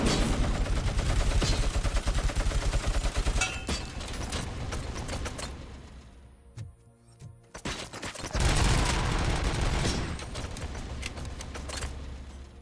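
Rapid bursts of sniper and automatic gunfire in the video game RoboCop: Rogue City, loud and dense, dropping to a near-silent pause in the middle before another heavy volley of shots.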